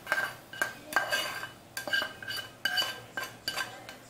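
Metal utensil scraping and clinking against a pot as vegetables with onions, garlic and jalapeños are stirred, in sharp irregular strokes close by, with no talking.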